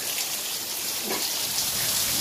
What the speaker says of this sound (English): Just in time for it to rain, but this is going to be short-lived.